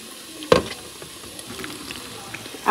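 Tofu, potato and carrot fry in a home kitchen pan with a soft, steady sizzle, broken once early by a sharp utensil clatter.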